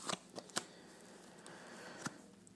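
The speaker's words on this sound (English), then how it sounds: "Maybe I need to reshuffle them again because I'm not getting anything new." Tarot cards being shuffled by hand, quiet soft riffling with a few crisp snaps of the deck at irregular moments, close and faint with no talking.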